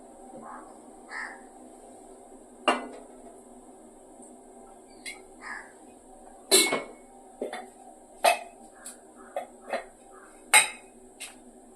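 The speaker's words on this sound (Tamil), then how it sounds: "கடாய் வச்சுக்கலாம்." A kadai and pans handled on a home stove give sharp metallic clanks and scrapes, about eight separate knocks spread irregularly over a low steady hum, fairly close.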